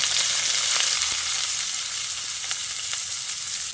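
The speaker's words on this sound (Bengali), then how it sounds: "এবার আমি যে পেঁয়াজটা কুচিয়ে রেখেছিলাম সেটার মধ্যে দিয়ে দিচ্ছি" Chopped onion hits garlic already browned in hot oil, bursting into a loud, close, continuous sizzle with a few sharp crackles as it settles into steady frying, no voices.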